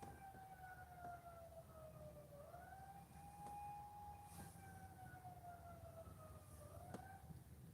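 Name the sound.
handheld PA siren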